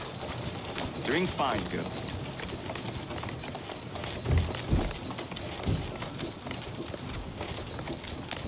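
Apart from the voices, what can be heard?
horse hooves trotting in a video game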